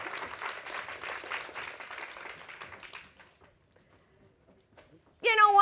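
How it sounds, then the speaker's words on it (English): An audience at a women's health and wellbeing summit panel gives the speakers a round of applause, which fades out after about three seconds into near silence before a voice begins speaking. "please give them a round of applause."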